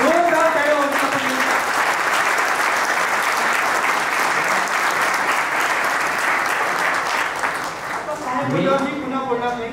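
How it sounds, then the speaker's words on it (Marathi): An audience at a lecture bursts into sustained, dense applause, loud and continuous for several seconds, with voices speaking over the clapping at the start and end. "जोरदार टाळ्या वाजवून"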